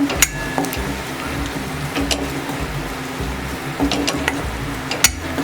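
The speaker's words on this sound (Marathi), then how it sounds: "मसाले आपण सर्व मिक्स करून घेऊया।" Coriander powder, turmeric and Malvani masala fry in oil in a pan for a brinjal and potato curry, with steady close stirring and scraping over a low sizzle and occasional sharp clinks.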